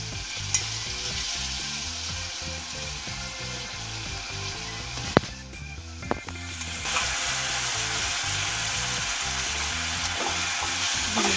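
Soaked moong dal fries in a pan with a continuous loud sizzle and crackle, broken by a few sharp utensil clicks as it is stirred.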